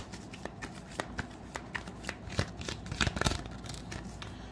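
Tarot cards shuffled by hand during a reading, a quick series of crisp riffling flicks and soft slaps, close and fairly quiet, with no one talking.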